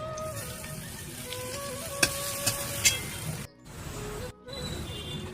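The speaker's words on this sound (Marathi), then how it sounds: "पहिले तर तूप टाकून बारीक रताळे केलेले परतून घ्यायचे।" Mashed sweet potato sautés in ghee for puran poli, giving a soft sizzle with a few sharp clinks of a spoon against the pan, briefly interrupted by two short gaps.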